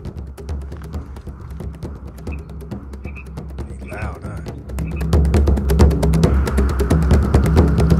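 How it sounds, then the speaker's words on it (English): Pacific tree frogs croaking in a chorus at a Bay Area California wetland in spring, dense rapid rhythmic croaks that swell louder and fuller halfway through, close and continuous. "That's the Pacific tree frog you hear."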